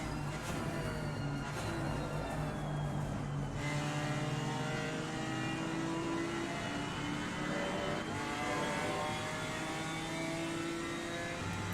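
A BMW GT4 race car in Assetto Corsa Competizione racing at Silverstone near Stowe, its engine revving continuously through rising and falling gear sweeps, loud and close with no voices.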